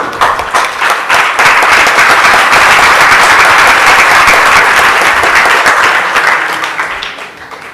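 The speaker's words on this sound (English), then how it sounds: "That got bigger applause than your question." A large congregation at a spiritual lecture bursts into loud, dense applause that swells quickly, holds steady for several seconds, then fades away near the end.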